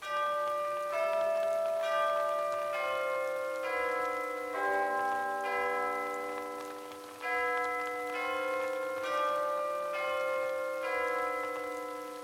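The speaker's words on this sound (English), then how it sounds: "the town tune appeasing a certain someone chimes with the hour" A bright, bell-like chiming melody plays the hour as the custom town tune in Animal Crossing: New Horizons on a MOTHER 3-themed Tanetane Island; its steady, clear tones ring out over a soft background with no talking.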